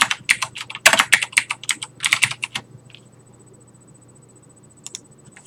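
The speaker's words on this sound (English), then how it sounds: "Sorry for all the clickety-clacking. I got a mechanical keyboard. Sometimes it's a little loud." Rapid clattering keystrokes on a mechanical computer keyboard, loud and close, fill the first half, then stop, leaving a faint hum and a couple of isolated clicks near the end.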